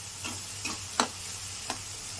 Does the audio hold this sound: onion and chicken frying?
yes